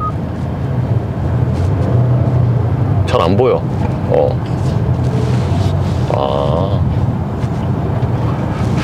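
A KG Actyon being test-driven after its launch event, with a steady exhaust and road drone heard from inside the cabin under wind noise while people talk over it.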